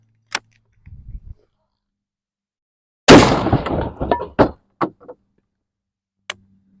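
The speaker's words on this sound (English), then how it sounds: "I'm also going to put a slug right into this solid log and see what happens." A 12 gauge shotgun slug fired into a solid log outdoors: one loud, sharp blast with a ragged decaying tail, followed by a few scattered thuds and clatters and faint brief voices.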